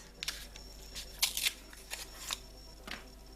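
Oracle cards from a dragon-themed deck handled and shuffled close up: soft papery riffles and flicks in short irregular bursts, quiet against a faint background hum, with no talking.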